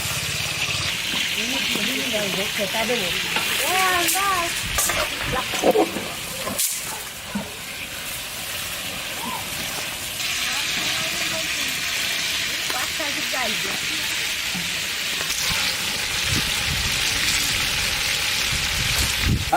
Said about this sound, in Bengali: তেল গরম হয়ে গেছে, রোজটা দিয়ে রোজটা ভাজে নেবো